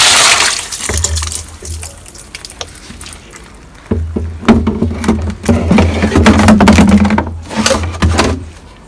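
Homemade liquid organic fertilizer made from scraps pours into a container, a steady close splashing, trickling stream that starts about a second in and grows louder and fuller partway through, running continuously to the end.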